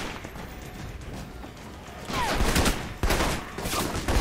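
Gunfire in the action game Alpha Protocol, a dense burst of shots and crashes that swells sharply around the middle and stays loud to the end, with a sharp hit near three seconds.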